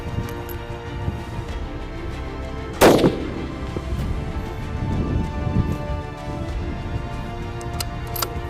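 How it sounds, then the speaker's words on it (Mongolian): A single sharp rifle shot cracks out at a shooting range during firing at a 400 m target, then fades against steady outdoor background noise. "За одоо үргэлжлүүлээд 400 м-ийн байруу буудна."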